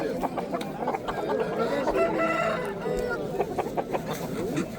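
A rooster at an Uzbek poultry market clucks repeatedly and breaks into a crow, loud and close, with people talking in the background.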